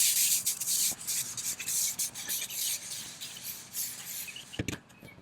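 A brush scrubs patio furniture coated with Super Clean cleaner in quick, uneven bristly strokes close by, with brief pauses and a few light knocks near the end.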